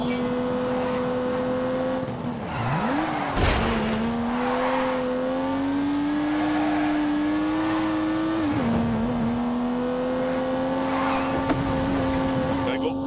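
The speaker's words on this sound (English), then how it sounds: "unleashed 365 rampaging horsepowers from the turbocharged 3-litre straight 6" A turbocharged 3-litre straight-six with 365 horsepower revs hard in a racing video game, a loud steady engine drone that dips briefly with gear shifts and then climbs again, holding close and continuous throughout.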